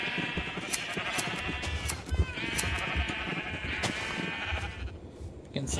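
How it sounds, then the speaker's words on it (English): Repeated sheep bleats from Minecraft, several overlapping calls at steady intervals with game ambience, loud and close throughout while wool is being sheared. "That's a blue sheep. That's a blue sheep. That's a purple sheep that I didn't mean to shear."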